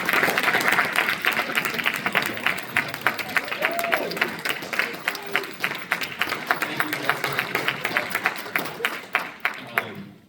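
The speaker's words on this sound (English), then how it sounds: "So let's give him a big round of applause." Audience applause at a neighborhood association meeting: a dense, steady burst of clapping from a room full of people that continues for several seconds before tapering off near the end.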